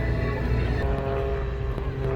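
Pitts Special aerobatic biplane flying a tumbling routine at the EAA AirVenture Oshkosh air show, its propeller engine droning steadily and loudly through the whole stretch with no talk.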